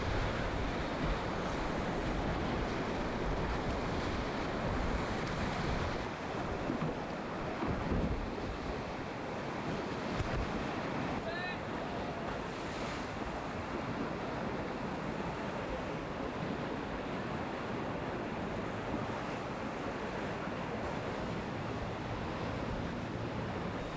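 Rushing water and breaking river waves on the Simme, heard while kayaking on a sunny day, form a steady loud wash with heavy wind buffeting the microphone throughout, with no voices.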